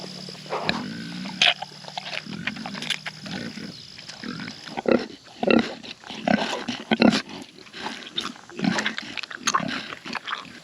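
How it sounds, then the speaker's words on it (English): Homestead pigs being fed scraps of wasted food grunt and oink continuously, close by, a busy overlapping stream of snorts and squeals with no talking. "I just love having pigs."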